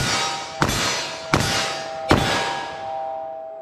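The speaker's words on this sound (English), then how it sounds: "So I just fired it, and as soon as I saw the front sight back on target, I fired another one." Three .44 Magnum revolver shots fired in quick succession outdoors, each a sharp loud crack with a ringing decay, spaced under a second apart.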